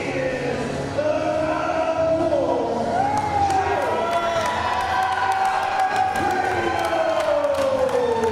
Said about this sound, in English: The crowd is absolutely electric for him.